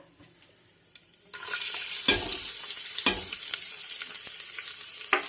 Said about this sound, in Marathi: छानपैकी आपल्याला फ्राय करून घ्यायचा आहे